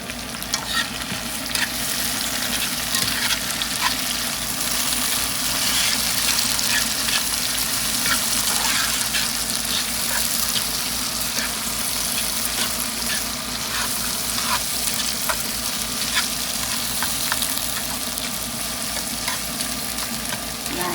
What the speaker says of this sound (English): Frying in a little bit, and I'm going to put in my saltfish.